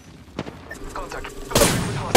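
Gunfire in an online squad shooter: a few sharp cracks early on, then a loud sustained burst of shots near the end, with quiet player chatter underneath.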